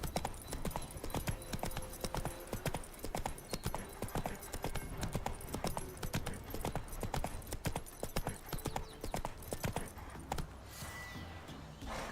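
Hooves of Geralt's horse Roach clip-clop in a fast, steady galloping rhythm in The Witcher 3, loud and continuous under game music, with a brief whinny-like sound near the end.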